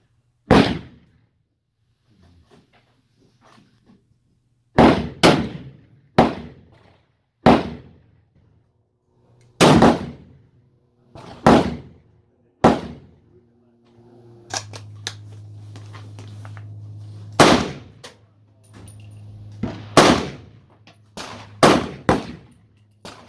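Rifle shots crack out at a shooting range, a dozen or more sharp, loud reports spaced irregularly with brief echoing decays and quiet gaps, and a low hum of wind or handling between them.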